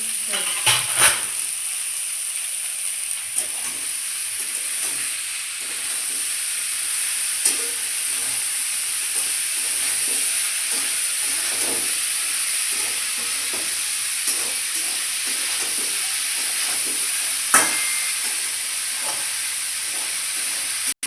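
Watermelon, potato and pumpkin peels fry in a pan with salt and turmeric, making a constant loud hiss and sizzle broken by occasional sharp scraping stirs throughout.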